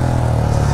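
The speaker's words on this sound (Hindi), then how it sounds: "बाइक स्टार्ट होगी" A brief, close burst of a motorcycle engine running steady and loud just after starting on a muddy night trail, with a low even hum and no voices.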